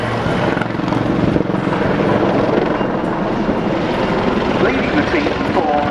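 Royal Navy Wildcat helicopters roar close by at an air show, rotor and turbine noise thick and continuous while performing synchronized wingovers at speed.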